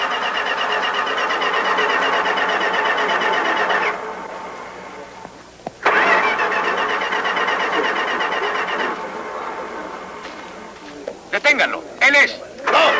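An old car's starter grinds on in two long, loud cranking bursts that never catch, followed by sharp shouting voices at the end.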